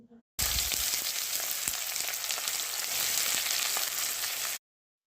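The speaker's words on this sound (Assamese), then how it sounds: "কেৰাহীত যে গৰম তেলত যে পিঁয়াজখিনি দিলে শব্দটো ওলায় ধুনীয়া লাগে ন চিজলিঙৰ শব্দটো বঢ়িয়া লাগে" Onions dropped into hot oil in a wok give a loud, steady sizzle and crackle that runs for about four seconds, starting abruptly and cutting off just as suddenly, with no voices.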